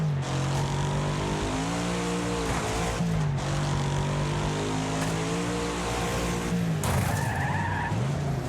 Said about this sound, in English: Good thing I was heavy on the brakes.